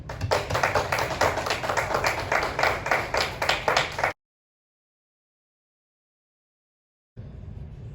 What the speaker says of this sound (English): Big round of applause for these two great young Americans